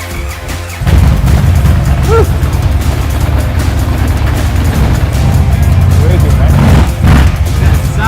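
A deep, loud custom Indian Chief motorcycle engine roars and rumbles continuously after a sudden start, with a few brief voice sounds over it.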